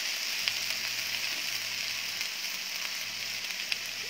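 Garlic shrimp sizzling steadily in a hot pan after vinegar is poured in, a continuous close hiss with faint crackles and a low hum underneath.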